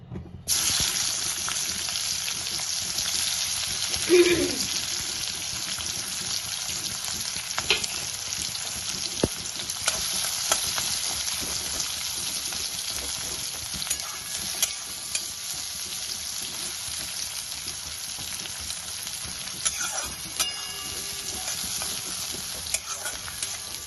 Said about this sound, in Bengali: এবার পেঁয়াজ যে কুচিয়ে রেখেছিলাম সেটাকে বেরেস্তার আকারে ভেজে নেব